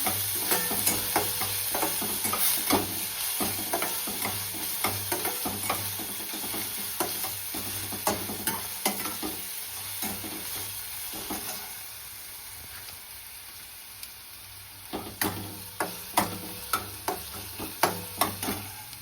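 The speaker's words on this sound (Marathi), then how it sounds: "कांदा छान होऊ द्यायचा" Onion frying in a pan for idli fry, stirred with a utensil: a steady sizzle runs throughout while scraping and clinking stirring strokes repeat, growing sharper and more frequent near the end, with no talk.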